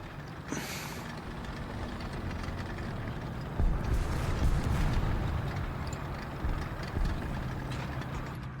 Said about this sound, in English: I hear something with a big engine back there.